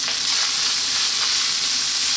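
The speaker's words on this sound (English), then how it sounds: "cold rice works so much better. It fries just so much better." Cold basmati rice frying in a hot pan gives a loud, dense, continuous sizzle and hiss close up, with no speech.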